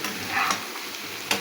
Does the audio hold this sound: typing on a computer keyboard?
no